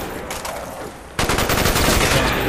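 Gunfire at zombies on the Ascension map of a zombie shooter game, a softer burst followed by a louder stretch of rapid, continuous shots with dense game noise.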